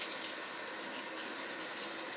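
Kitchen tap water runs in a steady hiss and splash while root vegetables are rinsed under it, continuous and fairly soft, with no speech.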